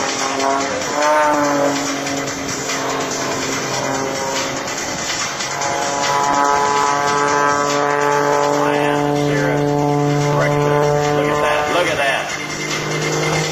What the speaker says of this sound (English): as she flies the Cirrus Extra 300 backwards